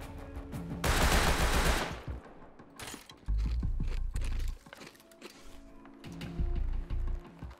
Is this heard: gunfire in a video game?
yes